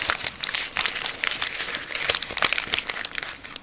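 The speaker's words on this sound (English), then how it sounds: "You're crumpling whatever paper that is." Paper being crumpled up close, a continuous dense crinkling and crackling that runs for several seconds with rapid uneven bursts and no talk over it.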